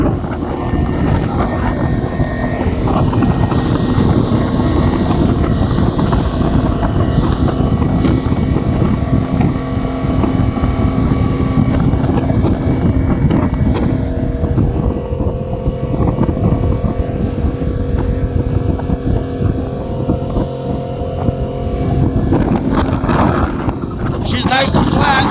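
A Fishrite Fishmaster boat with a Mercury 40hp outboard runs at speed, giving a loud, steady engine drone under heavy wind buffeting and water rush that continues without a break.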